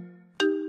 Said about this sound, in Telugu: రే సంధ్య ఫోన్ చేస్తుందిరా.